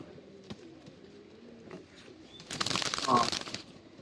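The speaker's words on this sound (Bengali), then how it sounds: "কবুতরটা আসলে কি কবুতর আমি জানি না" Soft, low pigeon cooing repeats close by in a quiet space, then a brief burst of rustling, fluttering noise.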